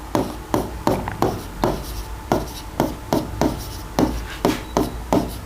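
Pen or marker writing out a math question on a board, producing loud, rhythmic scratching strokes in a regular series of about a dozen close strokes, with no talking over it.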